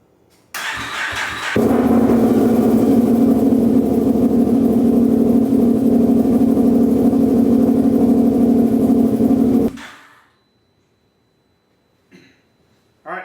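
A tuned Gen 3 car engine cranks, catches and settles into a loud steady idle, running evenly for several seconds before shutting off into silence, followed by faint brief clicks.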